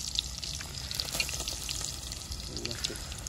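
Chopped onion frying in hot oil in a pan at an outdoor farm cookout, a steady close sizzle and hiss with faint crackles throughout, no voices.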